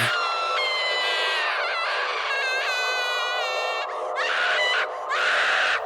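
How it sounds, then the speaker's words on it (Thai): A young woman screams in agony during a possession ordeal, a long, loud, shrill, wavering cry that rises and breaks into repeated wails with no other voices. "จนหญิงสาวนั้น กรีดร้องออกมาอย่างเจ็บปวด แทบจะขาดใจ"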